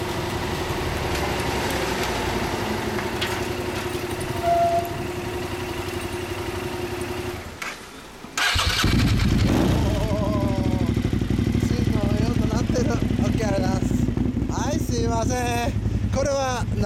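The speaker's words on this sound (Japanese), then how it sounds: "そのエンジン音聞かせてもらえますか？" A 1998 Suzuki TL1000R fitted with a Two Brothers exhaust idles with a steady rumble nearby. The sound briefly cuts out, then returns louder with wavering revs while voices talk over it near the end.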